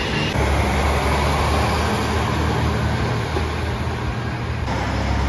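JR Shikoku 1000 series diesel local train running past on the Kotoku or Dosan line, a dense, loud, steady roar of engine and wheels filling the whole clip, with a constant high whine on top.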